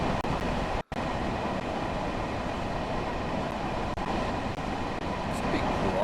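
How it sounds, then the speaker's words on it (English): Steady, dense rumble of a Long Island Rail Road train heard from outside in the Train Sim World video game, a continuous broadband roar with one brief dropout near the start. "Let's take a look now by exploring the exterior of this train."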